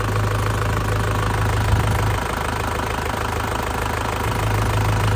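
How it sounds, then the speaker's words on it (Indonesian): A warmed-up 2003 Isuzu Panther LV engine idles steadily nearby with a low, even knocking rhythm and no talking. "sama kita hidupin mesinnya"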